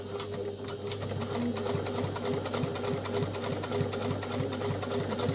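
A domestic sewing machine stitches down the centre front seam of a dress, running steadily at an even pace with a rapid needle rhythm close by, alone throughout.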